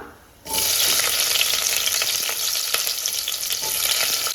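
Small onions (shallots) drop into hot oil for a spicy curry, bursting into a loud, continuous sizzle after a brief quiet start, with crackling stirred through it.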